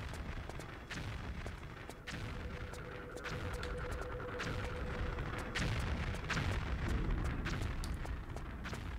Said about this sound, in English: Now we gotta listen to constant explosions.